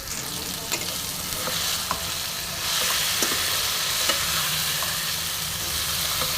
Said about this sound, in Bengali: আমি খুব সুন্দর করে মশলার সাথে চিকেনটা কষে নেব।